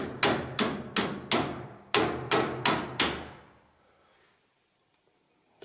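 Eight sharp metallic taps from a small metal bar striking metal while shaping a part of an AL-KO trailer anti-theft lock, in two groups of four at a steady rhythm, close and loud, then quiet.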